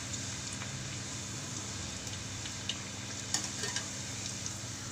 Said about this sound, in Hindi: हमें पूड़ी को कुछ ऐसे दबा दबा करके फ्राई करना है ताकि बहुत क्रिस्पी